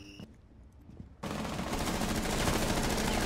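Rainbow Six Siege gunfire erupts suddenly after a quieter stretch with faint beeps, becoming a dense continuous barrage of rapid shots that stays loud to the end.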